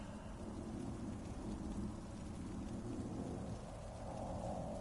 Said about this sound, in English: it started to rain. Not just the usual drizzle, it was bucketing down, drowning everything, the earth, the noise, the plants around me.